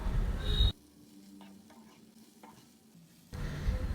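Drumstick leaves sauté in a pan, stirred with close, loud sizzling and scraping at the start and end. In between there is a quieter stretch with faint frying and light tapping.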